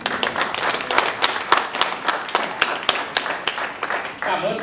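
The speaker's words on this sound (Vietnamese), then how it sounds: "xin quý vị cho anh Sinh một tràng pháo tay cổ võ tinh thần của anh Sinh" A theatre audience at a 1998 stage production breaks into steady applause, a dense patter of many hands clapping with sharp individual claps standing out, sustained and fairly close.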